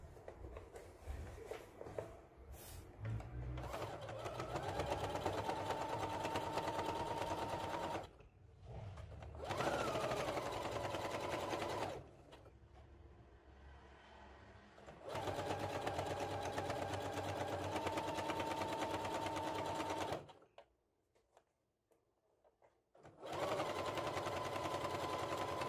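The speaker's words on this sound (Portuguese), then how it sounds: "venho costurando com o pezinho de máquina" Home sewing machine stitching a fabric table runner with its presser foot, a close, steady mechanical whirring in several long runs, separated by pauses and one near-silent gap.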